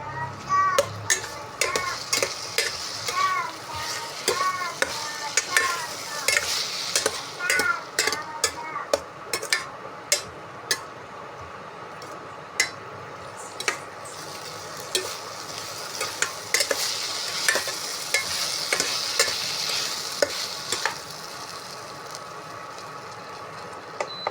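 Masala ingredients for chicken curry roast in a pan, with a soft sizzle underneath as a spoon stirs and scrapes, making repeated sharp clicks against the pan throughout.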